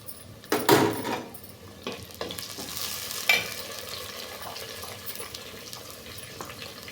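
Chopped tomato pieces dropped among frying onions in a pan for an egg curry, giving a steady close sizzle with a sharp splash early on and faint stirring scrapes, no voices.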